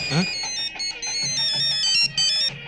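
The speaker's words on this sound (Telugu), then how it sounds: "రేయ్, రాణి ఫోన్ చేసిందిరా." A mobile phone ringtone plays a bright repeating melodic pattern, close and clear, with a brief voice at the start.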